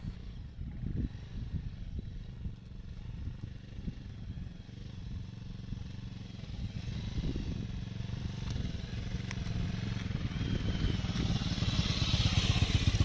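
A motorcycle labours through deep desert sand near Longewal, its engine a low rumbling drone that grows steadily louder toward the end, with rough clattering from the bike.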